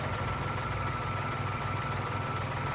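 A car engine idles steadily during a cold fluid check on a JF015E / RE0F11A CVT transmission, producing a constant low mechanical hum with a faint periodic throb and no talk.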